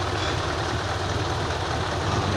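A pay loader's 6CT diesel engine running, a continuous low, rumbling idle heard up close with no talk.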